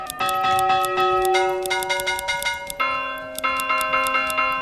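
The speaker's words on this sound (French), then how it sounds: "J'ai pris soin de choisir le son de cloche approprié pour rythmer leur travail." Church bell in the medieval village-building game Manor Lords, struck in a steady run of clear, ringing tolls with long harmonic sustain, loud and close, no voices.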